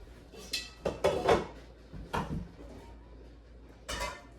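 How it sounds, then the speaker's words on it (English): Metal pots clanking and scraping on a kitchen stove while fresh pineapple is being canned, several sharp knocks and rattles in irregular bursts with quiet gaps between them. "gonna bring the bigger pot over here, start heating it up"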